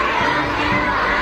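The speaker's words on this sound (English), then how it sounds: "Children jumping and cheering." Children shouting and cheering in a dense, steady crowd roar at an elaborate Chinese state welcome with military displays, no single voice standing out.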